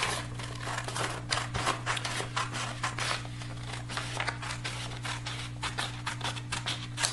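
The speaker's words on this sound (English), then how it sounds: "we start by cutting on the dotted lines" Scissors snip steadily through a paper helicopter template along thick dotted lines, a close, even run of crisp cuts with a low steady hum underneath.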